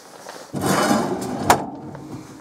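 A pull-out rack in the kitchen of an Eccles Topaz SE two-berth touring caravan slides open with a brief rolling rush and ends in a light knock, close and fairly quiet.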